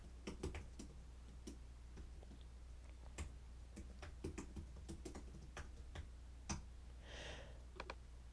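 Quick, light clicking of computer keyboard keys in irregular bursts, close but quiet, with no talking.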